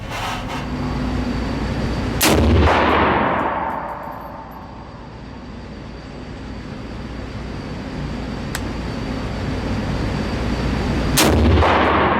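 A large rifle fires at a 100-yard range: a loud, close, booming report with a long decaying tail, then a second shot near the end, with quiet outdoor background in between.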